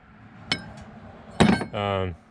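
Two sharp metallic strikes of a hammer on a scrap AC compressor part ring out, one faint then one heavy, followed by a short buzzing, grinding tone against a low background hum.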